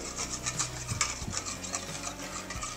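A fork or whisk rapidly beating eggs seasoned with black pepper in a bowl for a Spanish omelette, giving a steady scraping, rubbing rhythm with light clinks, close and moderately loud, with no voices.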